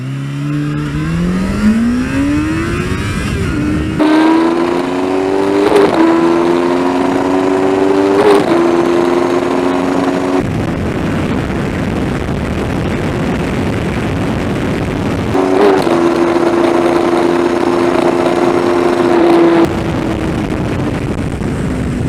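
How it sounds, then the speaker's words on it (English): A 2009 Yamaha FZ6 motorcycle revs up hard through the gears, the engine note rising then dropping at each shift, loud and close with steady wind noise, no speech. "the front end pops up when I shift from first to second when I'm heavy on the power"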